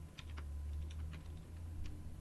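Quick, scattered clicks of typing on a computer keyboard, a handful of light taps spread over a couple of seconds above a steady low hum.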